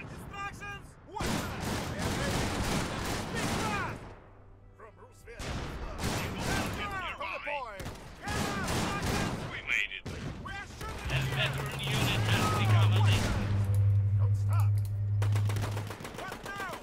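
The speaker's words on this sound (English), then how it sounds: "Incoming artillery!" Artillery barrages and bursts of gunfire in the Iron Harvest strategy game during a 1v1 match, with repeated loud impacts and rattling fire under game voice lines and player chatter.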